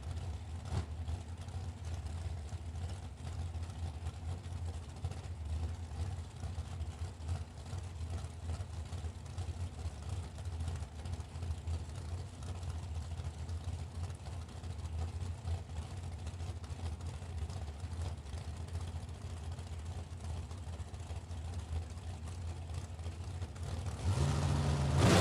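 A drag race car called Showtime, an undercover car from Indiana, idles at Muncie Dragway with a steady, loud low engine rumble for the whole stretch, swelling slightly louder at the very end.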